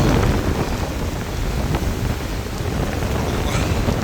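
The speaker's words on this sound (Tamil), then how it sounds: "காற்று தான் கட்டும் குளிர் காற்று அடிச்சு கொண்டு இருக்குது" A strong cold wind blows during a coastal storm, a loud steady roar buffeting the microphone, continuous and close throughout with no voices.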